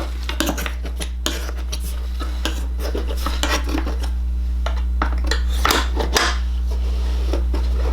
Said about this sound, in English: I'm just going to use my scraper here for my Cricut.